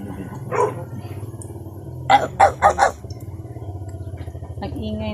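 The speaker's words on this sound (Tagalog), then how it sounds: "Nag-ingay ng mga aso dito." A dog barks about four times in a quick burst, fairly close, over steady background noise and murmuring voices.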